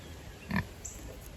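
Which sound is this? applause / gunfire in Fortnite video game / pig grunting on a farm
pig grunting on a farm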